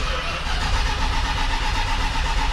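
A 1979 Dodge Lil Red Express pickup with the choke set cranks and fires after winter storage, a steady loud rumbling engine drone close by, running continuously without breaks.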